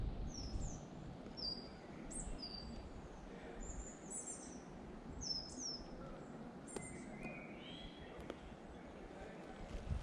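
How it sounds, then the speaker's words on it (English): Small birds chirp and whistle in short, high calls scattered across a steady low outdoor rumble, moderately distant and faint. "Isn't that amazing? Those bird sounds."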